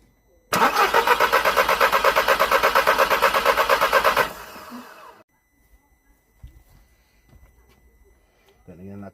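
Audi TT 8N with the 1.8T engine cranks on the starter in a fast rhythmic churn for about four seconds without catching, then stops; faint handling noises and a brief voice follow.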